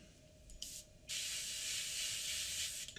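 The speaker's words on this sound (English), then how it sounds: "so slightly spraying downwards" Lacquer paint sprayed onto the tip of a model aircraft propeller: a short hiss burst, then a steady, close, continuous airbrush-style spray for about two seconds with no talking.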